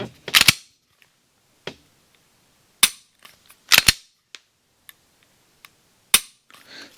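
A Glock Gen 6 G45 pistol is dry-fired, giving a series of sharp, close mechanical trigger clicks at irregular intervals, with quiet gaps between them.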